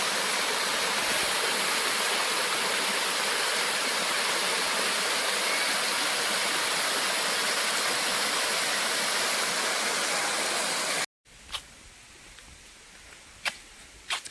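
Waterfall in Rani Park, Borigumma, a loud, dense, continuous rush of falling water close by that cuts off abruptly near the end, leaving quiet ambience with a few sharp clicks.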